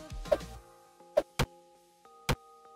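Arrow striking and sticking in a wall in the pixel-art video game Pixel Legends: a few short, sharp wooden ticks and thunks, spaced apart and fairly close, over a soft tonal game-music background, with no talking.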